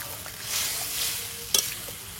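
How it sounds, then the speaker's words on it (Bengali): Lote fish sizzles in a pan with spices and water, giving a soft, continuous sizzle with stirring and a brief clink of the utensil against the pan. "মশলার সঙ্গে ভালোভাবে মিশিয়ে নেব।"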